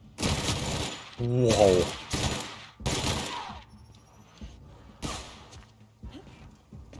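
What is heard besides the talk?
gunfire from a weapon in the video game The Outer Worlds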